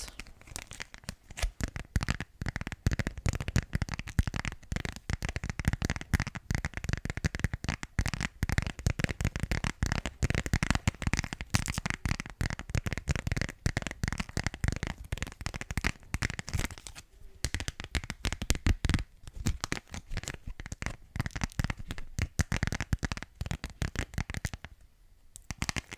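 Fast, close fingertip or nail tapping on a thick plastic card with an extra protective layer gives a dense, steady stream of quiet, crisp clicks with only brief pauses.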